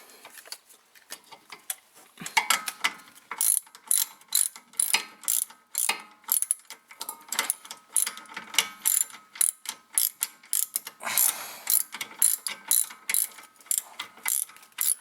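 A hand ratchet clicks in quick bursts while tightening a rear brake caliper bolt on a 2004 Volkswagen Jetta TDI, close-up rapid pawl ticks in repeated strokes with short pauses between them, no talk.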